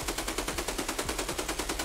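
Automatic gunfire rattles in rapid, steady bursts in the video game Escape from Tarkov, loud and close, with evenly spaced shots and no pause.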